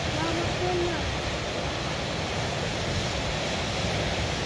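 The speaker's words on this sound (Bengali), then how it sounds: "এখানে যে ঢেউগুলো যখন বাড়ি দেয় পাথরকে, পানিগুলো অনেক উপরে ওঠে" Sea waves break against rocks at a Gotland shoreline, a continuous loud broadband roar of surf and spray with wind noise buffeting the microphone.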